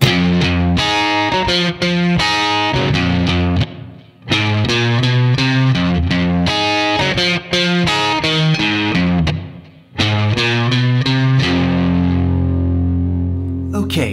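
A riff on a Fender Stratocaster through a Spark amp with an Axel Fuzz Boost, loud and thick with fuzz, chugging rhythmic phrases with two brief gaps, ending on a sustained ringing note.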